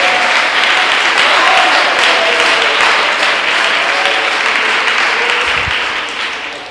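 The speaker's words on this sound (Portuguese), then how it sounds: "Pode dar uma salva de palmas para Jesus." A church congregation claps loudly and steadily in a sustained round of applause, with a faint low thump near the end as the clapping begins to fade.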